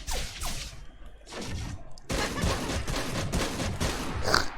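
Shotgun blasts in the horror shooter game The Burning Descent, several heavy booming shots with broad noisy bursts and decaying tails, spaced irregularly and loud against a rumbling game background.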